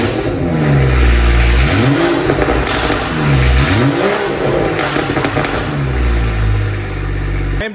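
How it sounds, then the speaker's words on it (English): BMW 540i fitted with a Valvetronic exhaust, revved hard several times in quick succession, each loud rising-and-falling blip close by, then settling into a deep idle. "The new Valvetronic exhaust is on, and this thing sounds insane."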